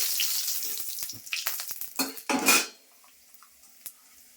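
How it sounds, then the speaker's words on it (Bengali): Five-spice, two dried chillies and bay leaves hit hot oil with a close, crackling sizzle mixed with clattering utensil knocks that peak sharply, then the sound drops away to near quiet. "এই যে 5 ফোড়ন দিচ্ছি, শুকনো লঙ্কা দিচ্ছি 2টা, তেজপাতা দিচ্ছি"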